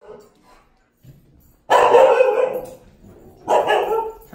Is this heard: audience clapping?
no